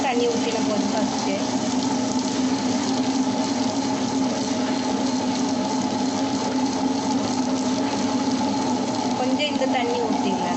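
Water trickles steadily into a wet grinder churning idli batter, a continuous whirring grind with sloshing liquid throughout, while a voice talks over it.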